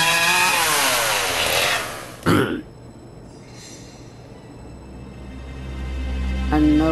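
A chainsaw from the mobile horror game Let's Play A Game snarls loudly, cuts off abruptly into a sharp burst, then rumbles low and rises again toward the end.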